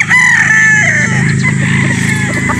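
A white game rooster crows loudly and close by, one long drawn-out call with clucking from other fowl in the background on a game farm in Batangas.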